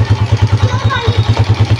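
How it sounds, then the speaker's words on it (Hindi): A modified Honda 125 motorcycle on a cold start, its engine idling close and loud in a steady, rapid thumping pulse, with a voice speaking over it. "अच्छा यार जाने से पहले बाइक का कोल्ड स्टार्ट कर लूँ ज़रा"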